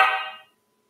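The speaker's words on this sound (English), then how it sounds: "We've got a horn," Short blast of a locomotive horn from a Soundtraxx Tsunami-2 decoder in an Athearn Genesis Union Pacific EMD SD70 model, a bright chord that sounds loud and close and dies away within half a second.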